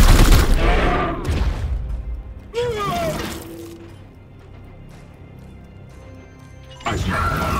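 Gunfire in the game Warhammer 40,000: Chaos Gate – Daemonhunters, with a burst of sharp shots and crashes at the start, another burst mid-clip, then a quiet stretch and a final loud hit, with voices speaking between.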